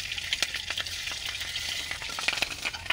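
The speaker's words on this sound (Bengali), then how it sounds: "এবার গরম তেলের মধ্যে দিয়ে দিচ্ছি সাদা জিরে আর কিছু ভেঙে নিয়েছি কাঁচা লঙ্কা" Cumin seeds and broken green chilies drop into hot oil and crackle close up, with dense popping spatter over a steady sizzle throughout.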